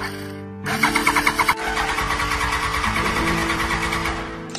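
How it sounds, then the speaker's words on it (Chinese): A 23-year-old Suzuki Hayabusa engine turned over by its starter motor wired directly to an external battery, giving a quick rhythmic series of cranking pulses followed by a steadier whirring churn, with background music underneath. "我先临时给它外接一块电瓶，把线直接怼上启动机。"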